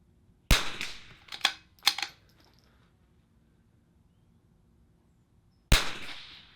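Rifle shots at a steel target on an outdoor shooting range during an NRL22 match course: four sharp, close cracks, three in quick succession and one more after a long pause, each with a short ringing tail.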